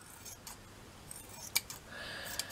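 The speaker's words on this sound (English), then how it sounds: "I do think it's too wide, just trim it off" Scissors trimming excess fabric off a handmade ruffle flower: a few quiet close snips with crisp cutting clicks, alone in a quiet room.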